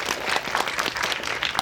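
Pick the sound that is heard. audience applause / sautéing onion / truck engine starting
audience applause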